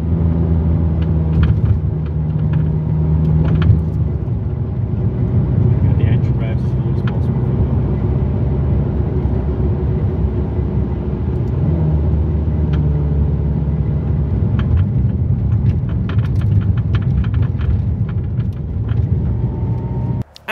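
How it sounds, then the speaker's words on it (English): Cabin noise inside a Ferrari 430 Scuderia on the move, with a steady loud engine and road rumble throughout and faint intermittent clicks and ticks of an interior rattle riding over it. "this is what the rattle was like"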